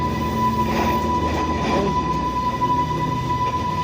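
A train rolls steadily along the rails nearby, a continuous loud rumble with a faint wheel squeal partway through and a steady whine held throughout; no one speaks.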